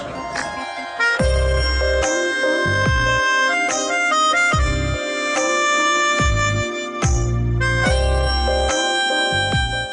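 A phone ringtone plays a loud, close electronic melody of bright repeating tones in steady rhythmic phrases, with no talk over it.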